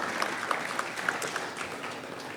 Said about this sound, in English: I think you can clap for me.